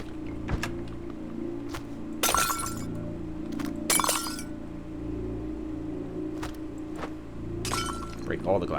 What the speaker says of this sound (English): Break all the glass.